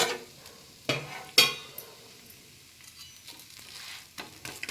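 A semolina chila fries in a pan with a soft, low crackle, interrupted by a few sharp clatters and scrapes of a spatula turning it.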